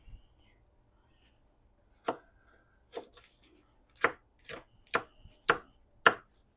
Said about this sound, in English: These are those sugar rush peach peppers here. We're gonna throw those in it.